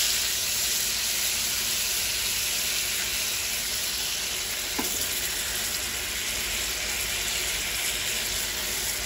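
Yellowfin tuna fries in margarine in a pan, a steady, dense sizzle and crackle that goes on without a break, close and fairly loud, with a faint tap partway through and no voices.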